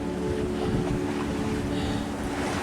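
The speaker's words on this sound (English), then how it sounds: "We are sailing at a 55-degree true wind angle." A sailboat sails at a 55-degree true wind angle, with a constant rush of wind and water around the hull and buffeting wind noise on the microphone, and no talking.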